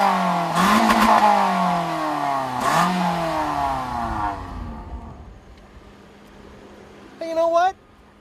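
A 2014 Toyota Corolla engine revs hard twice in quick succession, each sweep rising and dropping as heard from the cabin, then the note fades to a low idle before a short burst of speech near the end.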